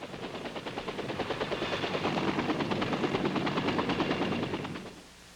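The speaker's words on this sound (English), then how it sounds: "such as this helicopter refueling pad, where traffic, however brief, is assuredly heavy" Military helicopters at a forward refueling pad beat out a loud, rapid rotor chop that builds and holds steady, then cuts away and fades near the end, with no voices.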